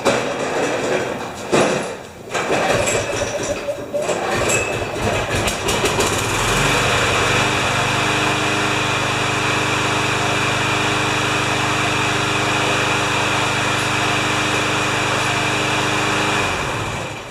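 A Poulan Pro lawn mower with a badly damaged blade runs loud and steady, its engine drone settling into an even, harmonic-rich hum after a few seconds of rougher, clattering startup noise.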